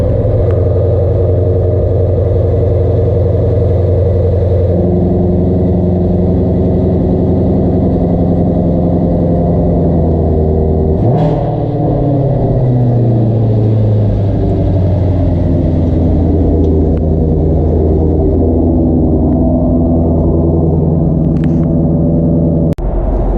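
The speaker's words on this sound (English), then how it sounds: "Satisfied Shelby customer taking off his brand new 2017 GT350" A brand new 2017 Shelby GT350 rumbles loudly close by, its engine holding a deep steady idle before a sharp rev and pulling away, the note rising and then settling again.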